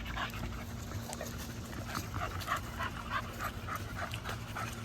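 Dogs panting heavily in hot weather, a rapid continuous rhythmic huffing close by, with faint whimpers mixed in over a low steady hum.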